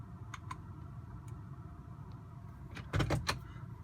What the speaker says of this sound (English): Testing the shift buttons